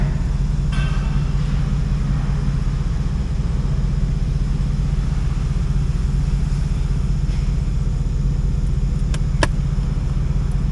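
A 2008 Pontiac G8 GT with its L76 V8 idling steadily, a deep continuous low rumble heard close up, with a couple of faint clicks near the end and no talking.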